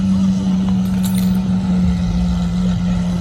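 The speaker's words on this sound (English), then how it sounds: "that V12 sounds insane" A straight-piped Lamborghini Aventador SVJ V12 idles with a loud, steady, deep drone, close and continuous, with a brief metallic rattle partway through.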